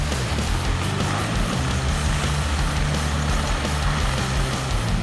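Four-wheel drive vehicles in a convoy on a muddy Borneo logging trail, a loud, steady engine drone with deep low rumble, close and continuous without pause.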